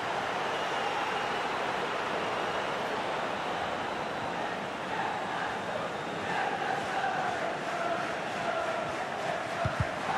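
Tense stadium crowd at a Premier League football match, Newcastle versus Nottingham Forest, a steady loud roar of many voices throughout with a few swells near the end.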